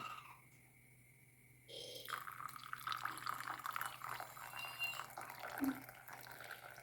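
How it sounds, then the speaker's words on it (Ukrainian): Coffee brewed with sugar, nutmeg and cinnamon being poured at home, a steady liquid pour in a low, continuous stream that swells partway through, close and fairly quiet, with no talk over it. "і зараз вилию ту кавусю"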